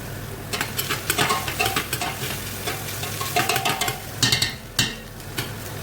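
Garlic and ginger sautéing in hot oil in a pan for chicken sotto soup, with a steady close sizzle and irregular stirring scrapes and clicks, no talk.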